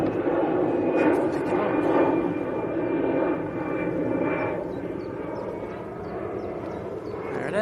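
Emirates A380 airliner climbing straight overhead after takeoff, a loud continuous jet engine roar with a steady whine that slowly shifts as it passes, with a person talking nearby over it.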